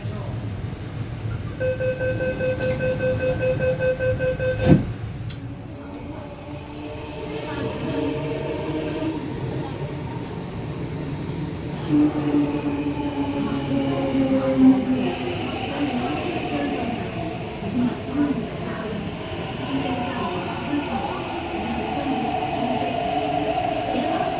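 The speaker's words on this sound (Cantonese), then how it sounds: "The train to Yangon is arriving." An MTR East Rail Line train arrives at a station platform, its steady rumble and rolling wheels running throughout beneath a chime tone and spoken announcements.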